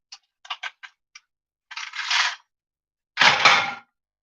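Frozen beef is rapped with a hard object: a quick series of sharp, dry knocks, followed by two longer scraping thuds, all close and loud against silence.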